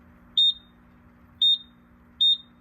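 A smoke detector on a Simplex 4100ES fire alarm system gives three short, piercing high beeps at roughly one-second intervals over a faint low hum.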